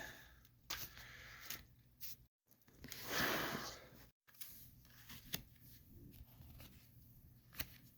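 Yggdrasil Oracle deck cards are shuffled by hand, with soft papery riffles, slides and taps that come in short bursts and one longer flurry, quiet and close.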